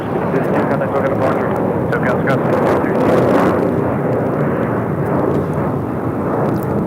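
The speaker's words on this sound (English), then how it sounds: "This is United Express 5332 taking off to Bozeman, E175." United Express Embraer E175 airliner taking off at LAX, a loud sustained jet roar close by that holds steady throughout, with radio chatter and voices faintly mixed in.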